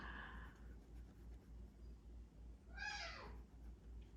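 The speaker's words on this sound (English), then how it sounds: "somebody's meowing." A single cat meows once, faint and somewhat distant, over a steady low hum, with a softer high call briefly at the start.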